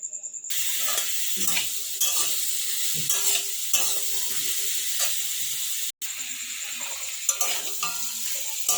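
Continuous sizzling of food frying in ghee in a hot kadai over low flame, with intermittent scraping and stirring sounds throughout.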